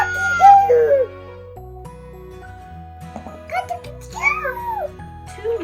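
A rooster crow in a playful toddler farm-animal setting rings out in bright, wavering calls, with tinkly jingles and a steady background tone around them, and voices talking between the calls.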